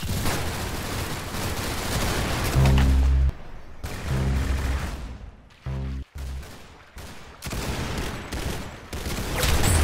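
Bursts of gunfire crackle throughout a Roblox Arsenal match, close and loud. Rapid shots come in clusters broken by short silent gaps, and heavy low thumps land among them.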